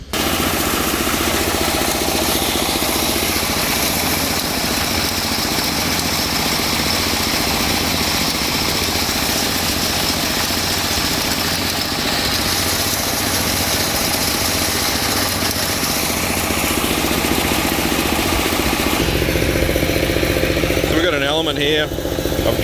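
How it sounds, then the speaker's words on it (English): A hammer mill runs continuously while milling copper products, giving a loud, dense mechanical roar and rattle that holds steady throughout, shifting slightly near the end. "Yeah, we'll run the mill and I'll be back."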